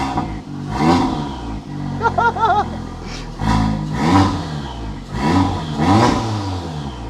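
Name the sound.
VW Golf R engine and exhaust revving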